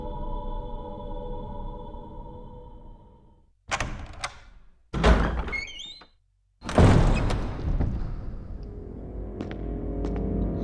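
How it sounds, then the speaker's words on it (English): A door opening in the Resident Evil remake video game comes in several heavy, separate thuds and creaking bursts with short gaps between them, following a low droning game ambience that then returns and swells. "let's follow script and go through this door"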